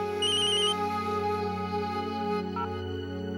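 A phone ringtone from a scene of the Hindi TV drama Yeh Rishta Kya Kehlata Hai plays as a bright, repeating electronic tone pattern over a steady musical background bed, loud and continuous through the short stretch with no talking.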